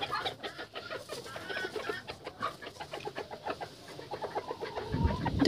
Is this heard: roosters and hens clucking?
yes